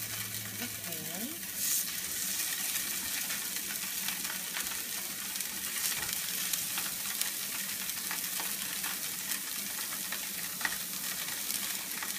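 White fish fillets coated in curry and spicy mustard frying in a sprayed pan, a faint, even sizzle that holds steady throughout with a few small pops, quiet and unbroken.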